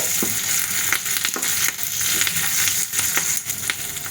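A tempering of curry leaves and asafoetida sizzles in hot oil, a steady close crackle with small pops and occasional stirring scrapes, no voices.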